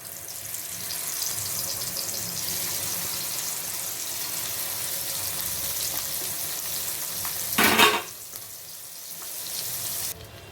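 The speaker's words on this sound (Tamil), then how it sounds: "இப்போ நம்ம மசாலா தடவி வச்சு மீனை போட்டுடலாம்." Masala-coated fish frying in hot coconut oil for Kerala-style meen satti soru, a steady close sizzle and crackle throughout with a brief louder burst of spattering near the end.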